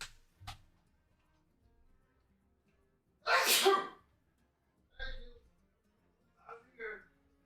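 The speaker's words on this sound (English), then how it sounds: "Was that a sneeze or did you shoot your lungs out?" A single loud, explosive human sneeze bursts out close by in an otherwise quiet room, followed by a few brief softer vocal sounds.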